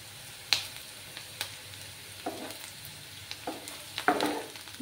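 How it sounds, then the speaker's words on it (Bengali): Onions sizzle softly in a hot pan, a quiet steady fry broken by a few sharp crackles and pops, with no voices. "পেঁয়াজগুলোকে আমি ভেজে নেব"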